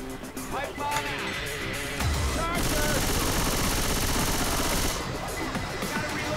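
Sustained gunfire in Left 4 Dead 2 during a boss arena fight, a dense rattling stream of shots that runs for several seconds over game noise, with a voice talking through part of it.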